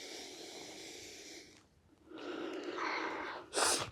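A person outdoors in the Sonoran Desert draws a breath, a breathy hiss that fades, returns, and ends in a sharper, louder inhale, near and alone without talk.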